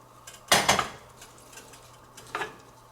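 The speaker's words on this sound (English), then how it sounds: "So now I'm just adding the pork in and just stirring that into the dish" A utensil stirs pork into a pan of green beans almondine with butter, making two bursts of close scraping and clattering separated by quieter stretches.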